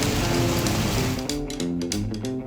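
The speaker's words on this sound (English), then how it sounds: "It's raining outside." Steady rain hisses throughout in a Peppa Pig cartoon, with a soft melodic tune and light knocks coming in partway through.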